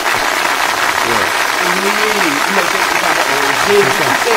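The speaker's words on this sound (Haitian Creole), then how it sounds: "Ça mérite un applaudissement." Applause from a church congregation at a baptism service, a steady wash of clapping filling the room continuously, with voices speaking over it throughout.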